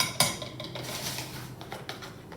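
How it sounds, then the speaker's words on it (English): Metal measuring spoons clink against a mixing bowl while scooping tablespoons of ingredient into a cake mixture, a few light, close taps and scrapes at a quiet level. "I'm just going to get my measuring spoons and measure 3 tablespoons just straight into the mixture."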